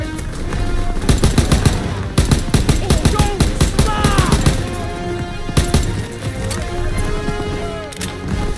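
Rapid machine-gun bursts crackle through a World War II battle in Call of Duty WW2, loud and close, in clustered volleys with short gaps, while soldiers shout faintly underneath.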